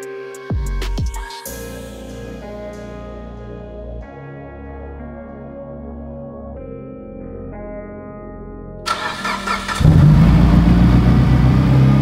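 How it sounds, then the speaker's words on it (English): A Mitsubishi Evo 8 engine cranks briefly and catches, then settles into a steady idle before revving loudly near the end, heard close up in an echoey space without talk. "we can start this thing up, make sure it still runs"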